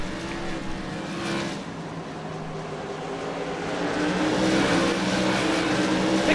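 Race cars roaring around a track during a 100-lap race, a steady, loud wash of engine noise that swells toward the end, with no talk.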